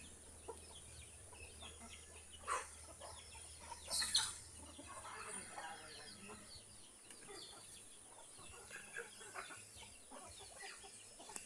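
Chickens cluck and squawk in a farmyard, with a louder burst of fowl calls partway through over steady background bird chatter.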